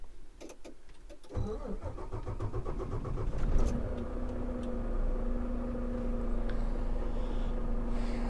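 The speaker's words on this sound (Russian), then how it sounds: "мы сейчас сидим возле двигателя, и вам должно быть слышно, как он работает" A Volvo semi truck engine starts after a few clicks and settles into a steady idle, a smooth low drone heard from beside the engine, fairly quiet with no talk.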